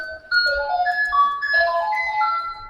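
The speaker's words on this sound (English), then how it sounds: "No, that was my doorbell, my neighbor's." A neighbor's doorbell, a melodic electronic chime, plays a sequence of bright tones, ringing clearly for a few seconds with no voices.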